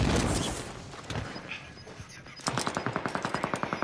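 Rapid automatic gunfire in Call of Duty: Modern Warfare, a fast regular burst of close shots in the second half following scattered shots and rumbling battle noise.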